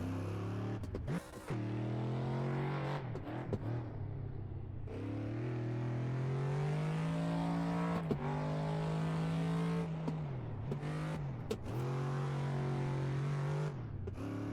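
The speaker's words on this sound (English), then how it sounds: "I'm having to use the handbrake here. This thing really doesn't drift very well." A car drifts in the racing game Assetto Corsa with the handbrake pulled, its engine revving loudly in a strained sustained drone that rises and dips, broken by abrupt cuts and gear changes across the run.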